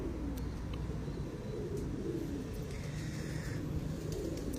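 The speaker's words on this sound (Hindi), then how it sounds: "उस्ताद ये कौन से कबूतर हैं आपके?" Pigeons owned by a pigeon-keeping ustad coo softly in low, rolling murmurs over steady background noise. The cooing is faint and continuous across a few seconds.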